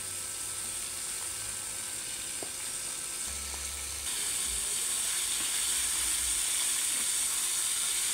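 Chicken wing lollipops fry in hot cooking oil with a loud, steady sizzle that grows brighter and stronger partway through, with faint stirring bumps underneath.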